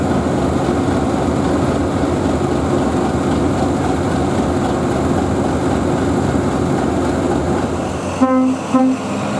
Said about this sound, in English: The 41 now leads the train over Deerham Crossing.